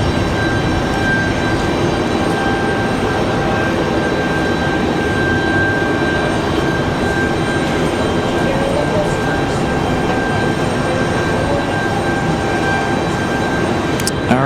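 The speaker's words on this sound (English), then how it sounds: "Should be another good sounding departure from our A321." Airbus A321 jet departing Raleigh Durham airport on a windy night, a steady, loud, continuous engine roar with a sustained high whine, holding level throughout with wind noise underneath.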